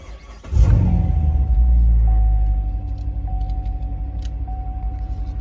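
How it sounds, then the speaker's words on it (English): A Chevrolet Corvette C7 engine, heard from inside the car, cranks and fires with a sudden deep roar, holds a high rumble, then settles into a lower, throbbing idle. "we're sitting in the C7. We're going to go ahead and start it up."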